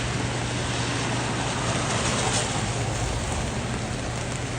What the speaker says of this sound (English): Right now it's fucking raining